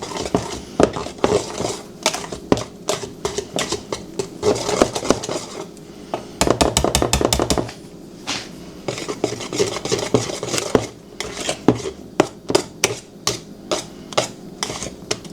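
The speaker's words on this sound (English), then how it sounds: "And then just mix it all together with the rest of your pudding." A no-bake pie pudding mixture is stirred and mixed in a bowl, with quick rhythmic tapping and clacking of a utensil against the sides, at times in a rapid burst, close by.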